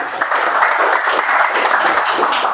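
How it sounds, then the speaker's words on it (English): Audience at a Toastmasters meeting giving a round of applause for the general evaluator, steady close clapping from a room of people, loud and continuous for a few seconds. "Please have a big round of applause for our general evaluator of the day, Toastmaster Yashendu."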